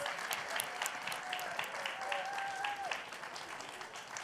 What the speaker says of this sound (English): Let's give yourselves, Mr. Vance and Mr. Young, a round of applause.